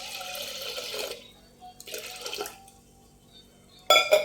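Water poured over washed chana dal and toor dal in a cooking pot, set to boil for varan. Two short splashing gushes separated by a pause, followed by a brief metallic clink, with no talking.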